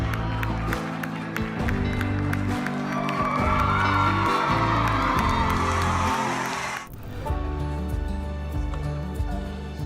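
Large crowd at a soldiers' homecoming cheering, whooping and shouting, loud and sustained, then cutting off abruptly to a quieter scene with steady background sound.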